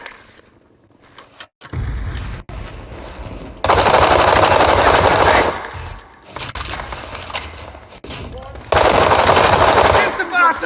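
Rapid machine-gun bursts and gunshots in the shooter game World War 3, loud and close, arriving in several separate volleys with short quiet gaps between them.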